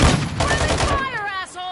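Rapid gunfire bursts from the video game Modern Warfare 2 fill the first second, loud and dense, then give way to whistling, warbling game effects as the shooting stops.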